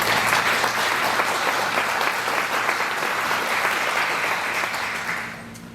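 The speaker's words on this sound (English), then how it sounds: "I would like for you to give yourself a round of applause" Audience applause at a business event, a thick, steady round of clapping from a large crowd that holds for about five seconds before tapering off.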